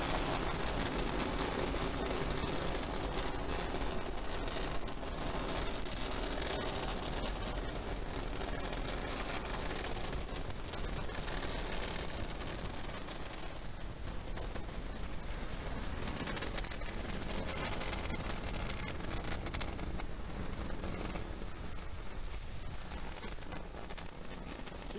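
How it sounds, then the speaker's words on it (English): SpaceX Falcon rocket at liftoff on a GPS mission, heard as a dense, continuous broadband roar and crackle with deep rumble, steady and unbroken throughout like heavy rain. "Liftoff. Go Falcon, go GPS. Vehicle is pushing down range."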